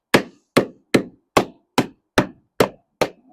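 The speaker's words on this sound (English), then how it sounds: "I have my rubber mallet, and I'm going to put a piece of wood on there as well," A rubber mallet strikes a wood block laid over a part during a Yanmar 2GM marine engine bay refit. Eight sharp, evenly spaced thuds land about every half second, close and loud, with silence between them.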